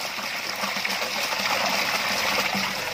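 Water rushes and splashes steadily from a new submersible water pump, a constant close gushing flow with no breaks.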